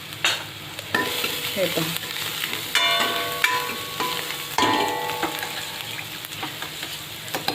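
Spices crackling and frying in a hot tadka for a Maharashtrian bottle gourd (dudhi) curry, with intermittent stirring scrapes and a steady close sizzle; a brief voice speaks near the start.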